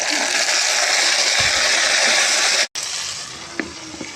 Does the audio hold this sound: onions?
yes